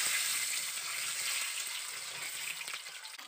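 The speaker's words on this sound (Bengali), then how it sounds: "এইভাবে আমি হালকা করে ডিমটা ভেজে নিলাম" Eggs fry gently in oil in a wok, giving a steady, fairly loud hiss and sizzle throughout with faint crackles and no voices.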